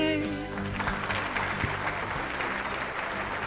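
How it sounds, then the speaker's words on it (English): A recorded applause sound effect bursts in: a crowd claps and cheers loudly and steadily, with a brief voice at the very start. "I really love that applause."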